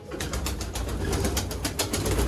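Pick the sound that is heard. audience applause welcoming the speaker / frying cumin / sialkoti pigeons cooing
sialkoti pigeons cooing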